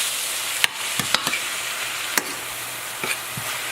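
Turkey meat cooks in a pan with a steady sizzle under a scattering of sharp utensil taps and scrapes, no one speaking.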